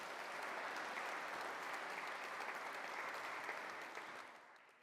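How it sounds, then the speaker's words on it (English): A conference audience at the Co-op Congress gives a round of applause for Steve Coogan: dense, steady clapping that holds evenly, then tapers off at the end. "if we could give Steve another round of applause"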